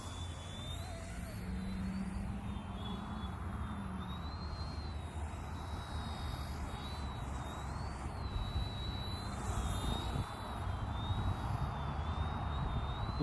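Eachine E110 Sentry toy RC helicopter flying in an open field park, a steady high-pitched whining motor tone that wavers continuously over a broad rushing wind-like background, with no pauses throughout.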